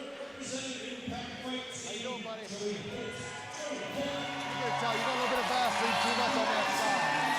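Crowd noise at an MMA event, a dense, continuous roar of cheering that swells toward the end, with a commentator talking over it throughout.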